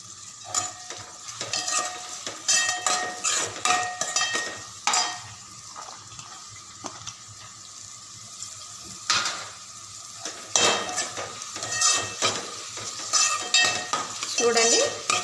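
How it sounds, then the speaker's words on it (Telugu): Onion pieces and green chillies fry in a pan for homemade hotel-style biryani, a soft sizzle broken by bursts of metal spoon scraping and clatter in uneven strokes, close and fairly loud with no voices. "ఈ ఉల్లిపాయ ముక్కలన్నీ వేగించుకోవాలండి"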